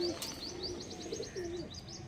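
Madras pigeons at a pigeon sale coo softly in low, drawn-out notes while sharper bird chirps repeat steadily above, close and fairly quiet throughout.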